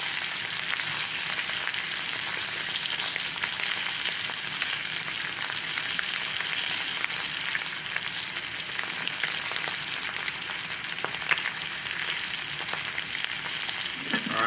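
A butter-basted New York strip steak sears in a cast iron skillet with a loud, continuous crackling sizzle that holds steady without letup.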